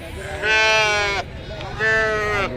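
Sheep and lambs at the Pebbair sheep market give two loud, drawn-out bleats, one after another, close by amid a busy livestock market.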